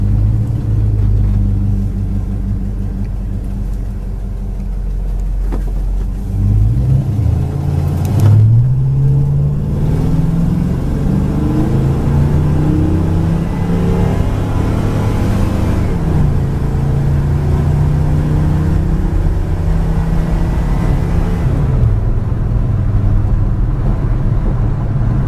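A 1972 Oldsmobile Cutlass with a transmission kick-down drives along a road, its low engine rumble rising as it accelerates and shifts, then settling into a steady, loud cruising drone with road noise inside the car.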